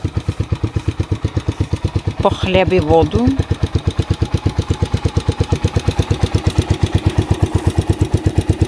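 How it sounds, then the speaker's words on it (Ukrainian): A moped engine runs close by with a rapid, even putter that continues steadily throughout, while a person speaks briefly over it. "Ми сьогодні їдемо на мопедику"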